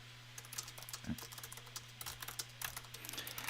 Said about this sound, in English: I should probably type that in here.